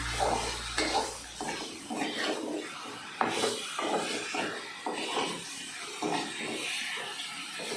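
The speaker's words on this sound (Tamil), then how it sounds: "இருந்தாலும் அதில் உள்ள தண்ணி வெளியே வர்ற வரைக்கும் நல்லா கொஞ்சம் வதக்கி விட்டுக்குவோம்" Chicken liver and tomato are sautéed and stirred in a pan, with repeated scraping strokes of a spoon against the metal in an irregular rhythm over a soft sizzle, close and moderately quiet, with no voices.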